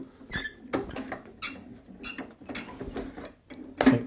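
Hand-cranked die-cutting machine pushing paper through for a trellis cut, giving repeated close squeaks and creaks in an uneven rhythm, with no talk.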